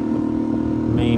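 A sailboat's engine runs with a steady, droning mid-pitched hum that stays even and close throughout, with a voice audible over it.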